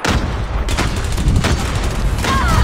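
Explosion and gunfire in the mobile shooter Call of Duty Mobile, a loud continuous barrage of blasts and booms filling the whole moment with no quiet gaps.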